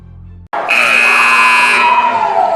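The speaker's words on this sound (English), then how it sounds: "So the buzzer has sounded." A loud, sustained electronic buzzer sounds during a varsity boys high school basketball game, cutting in abruptly after a brief moment and holding steady for about two seconds.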